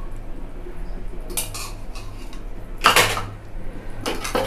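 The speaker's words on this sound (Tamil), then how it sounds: "வழக்கம் போல் நல்லா கிண்டிக்கணும்." A spoon scrapes and clinks against a pot as a mushroom biryani mixture with lime juice, yogurt, ginger-garlic paste and tomato is stirred, in three short separate bursts over a quiet background.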